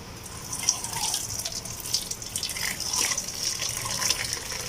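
Boiled lime shampoo liquid is poured through a coarse strainer, producing a continuous close watery trickle and splash with faint drips, and no talk.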